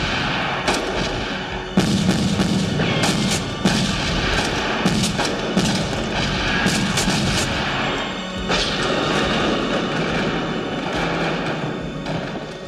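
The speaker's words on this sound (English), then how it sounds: "this time by a full firing squad who shoot him down" Firing squad gunfire in a Halloween horror film, a dense continuous volley of loud shots and cracks over a booming film soundtrack.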